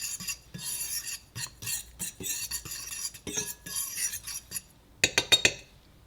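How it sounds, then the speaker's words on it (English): A utensil stirs dry baguette dough ingredients in a bowl with close, irregular scraping and clinking strokes, ending in a few sharper metallic taps against the rim. "First, we mix our dry ingredients."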